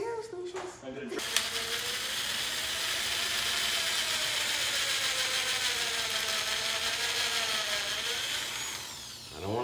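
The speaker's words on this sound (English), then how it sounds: "Okay, so I'm going to drill a hole." A power drill bores a hole through decor for a ball python enclosure, starting with a short burst, then whirring loudly and steadily for several seconds up close before winding down.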